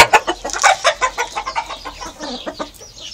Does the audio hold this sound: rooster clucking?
yes